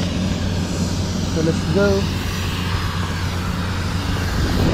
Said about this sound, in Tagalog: Paano siyang private jet? Private jet nga siya.